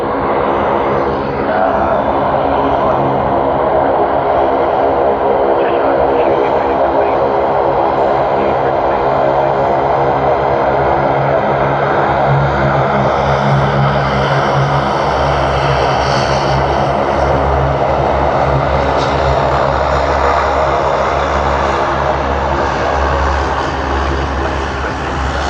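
Thai Airways flight TG471, a jet airliner bound for Bangkok, starting its takeoff roll at Sydney Airport: a loud, sustained engine roar that builds and holds steady throughout, heard from nearby.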